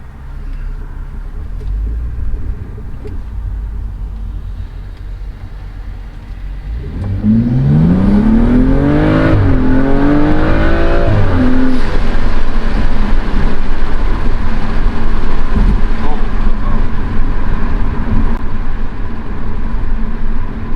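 A BMW M235i fitted with a Sprint Booster accelerates hard in race mode, its engine note climbing through rising revs after a steady idle, loud and close, then holding a strong sustained roar.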